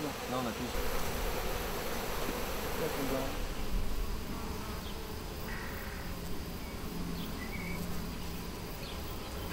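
Honey bees buzz densely around an open hive during beekeeping work, a continuous close swarm drone filling the whole stretch with faint human sounds underneath.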